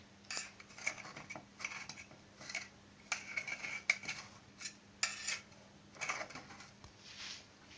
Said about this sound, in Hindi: अब हम ब्राउनी को छुरी की मदद से साइडों से काट लेंगे